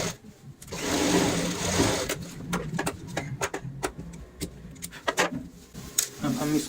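Sewing machine stitching close along a zipper on a bucket-chair craft piece, a near rapid mechanical whir running in short bursts punctuated by sharp clicks and ticks, fairly loud and steady.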